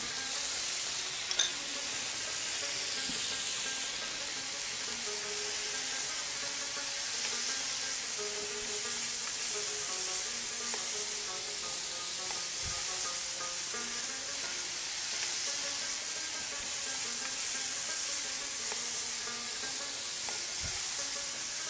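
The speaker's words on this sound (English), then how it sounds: "We're just, let's say, stir frying the beef, right?" Beef stir-fries with garlic, butter and soy sauce in a hot pan, a soft steady sizzle and hiss with occasional scraping taps of stirring, no talking.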